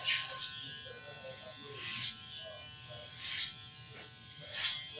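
A hair clipper motor whirs steadily while cutting a fade, its pitch rising in four distinct surges as it speeds up to hold 11,000 RPM under load.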